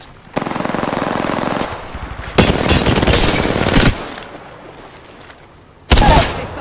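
Bursts of automatic gunfire in a video game battle royale match, three loud sustained volleys of rapid shots separated by short pauses, close and dominant with no talk over them.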